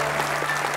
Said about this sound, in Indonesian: kasih tepuk tangan dulu dong buat Entok Kopit